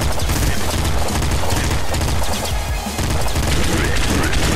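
A boss's rapid bullet fire in the video game Nuclear Throne, a loud, relentless barrage of overlapping shots and booms that fills the moment without pause.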